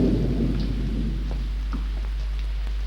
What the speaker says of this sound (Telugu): ఈ చినుకులు అలా పడుతూనే ఉంటాయి. వాన ఎప్పుడు తగ్గుతుందో ఏమో.